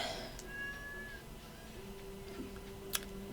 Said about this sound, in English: Let's go schmooze the kitty cat.